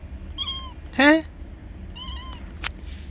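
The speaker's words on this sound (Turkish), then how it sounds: "Sen miyavlıyor musun?" A kitten meows a few times nearby, short rising-falling calls about a second apart with one louder cry in the middle, while a person speaks briefly in the background.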